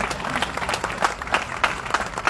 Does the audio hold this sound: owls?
no